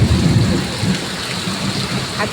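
Heavy rain pours down with deep rolling thunder outdoors by a road, a dense, loud, continuous wash of rain with a rumbling low end throughout.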